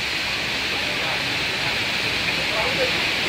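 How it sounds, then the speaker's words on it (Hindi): Corbett Falls waterfall in a jungle setting gives a steady, even rush of falling water, a broad continuous roar that holds unchanged throughout without breaks. "और शांति देखो ये पानी का नॉइस सुनो"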